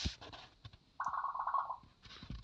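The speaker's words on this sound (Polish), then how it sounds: "to jakiś telefon mojej siostry" A sister's mobile phone ringing nearby, one warbling electronic ring of about a second in a quiet room, surrounded by faint shuffling and clicks.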